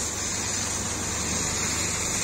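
Water and sand gush through a high-pressure pump and pipeline into a geotube bag at a riverbank revetment site, a loud steady rushing hiss with no pause.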